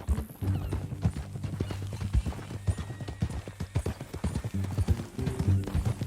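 Horse hooves clip-clop at a steady walking pace in the Red Dead Redemption 2 video game, a clear rhythmic series of hoofbeats close by, with occasional background sounds and faint talk.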